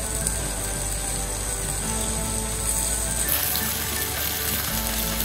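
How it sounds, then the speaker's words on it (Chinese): Enoki mushroom and fatty beef rolls frying in oil in a pan, seam side down until golden, giving a steady, close, continuous sizzle and crackle throughout with no talking. "而家煎到佢有啲金黄色啊"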